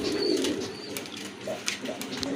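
Pigeons kept for sale cooing close by, a low soft repeated coo with a few faint chirps in a quiet setting.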